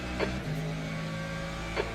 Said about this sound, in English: there's a faster car approaching